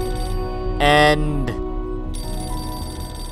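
An in-game telephone in Beholder 2 rings with a bright, loud electronic bell burst, followed by clicks and a softer repeated tone, while someone briefly speaks.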